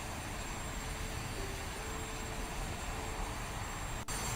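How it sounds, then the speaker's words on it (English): A Douglas DC-9-32 airliner in flight gives a steady, broad jet roar heard from inside, even and unbroken throughout, fairly quiet and with no talking. "Let's take a few seconds to have a look at this beautiful plane in flight."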